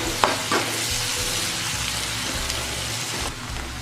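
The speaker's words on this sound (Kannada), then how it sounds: "ಈರುಳ್ಳಿ ಹಾಕ್ಕೊಂಡು ನೀವು ಫುಲ್ಲು ಗೋಲ್ಡನ್ ಬ್ರೌನ್ ಆಗೋವರೆಗೂ ಫ್ರೈ ಮಾಡ್ಕೋಬೇಕು ಎಣ್ಣೆಯಲ್ಲಿ" Onions frying in oil until golden brown for Chicken 65 biryani crackle with a steady, rain-like sizzle, punctuated by a couple of brief stirring clanks early on, with nobody speaking.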